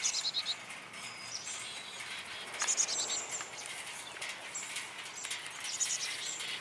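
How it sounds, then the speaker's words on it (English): High, thin bird chirps come from inside a birdhouse in a garden in scattered short bursts, faint and somewhat muffled, over a soft background hiss. "birds in this birdhouse here. I can hear them."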